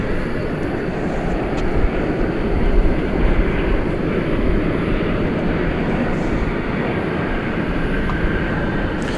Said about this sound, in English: This is a Dreamliner Dash 9, about to embark on this flight to Melbourne.